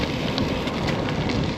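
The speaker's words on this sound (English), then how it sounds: "It is starting to rain." Rain beginning to fall during a bike ride, a steady dense hiss of drops mixed with wind rush, loud and close, with no voices.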